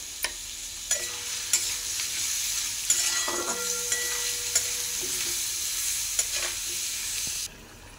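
Vegetable bhaji with salt and turmeric sizzles in a pan while a spatula scrapes and stirs, a steady close fry broken by sharp knocks and scrapes every second or so, ending in a sudden drop.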